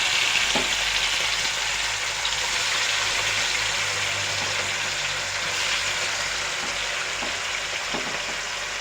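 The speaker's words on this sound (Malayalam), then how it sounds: "അത് നമ്മൾ എടുത്തിട്ട് ഇതിനകത്തോട്ടിട്ട് വറുത്ത് കോരി എടുക്കണം" Fish coated in turmeric fries in hot oil with a steady, dense sizzle and crackle throughout, close and continuous with no speech.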